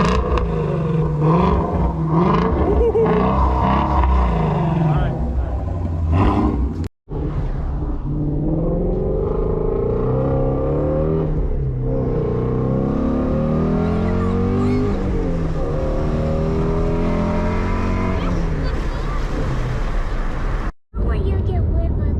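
A 2019 Ford Shelby GT350 Mustang engine revs loudly and drives in the rain, a continuous roaring rumble with rising and falling pitch that fills the whole stretch, broken by two brief dropouts.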